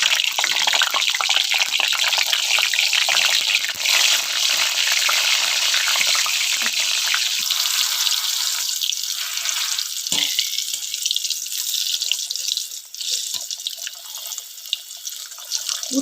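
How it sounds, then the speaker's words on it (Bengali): Bitter gourd frying in hot oil, a loud dense crackling sizzle that runs without a break and thins slightly toward the end, with no voices. "এই উচ্ছেটা ভেজে নেব।"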